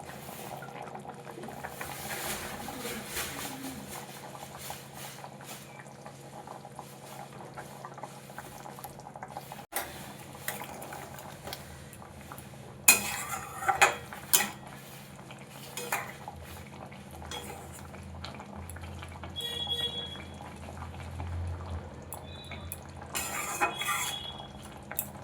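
Eggplant cooking in mustard oil over a low flame in a pan, a gentle bubbling sizzle broken by clattering of a metal spoon and utensils, quiet overall with occasional louder knocks and no speech.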